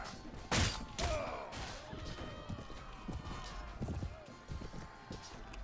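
Horse hooves clip-clop amid a battle in Mount and Blade Warband, with irregular thuds and clashes at moderate level, a voice speaking over the action.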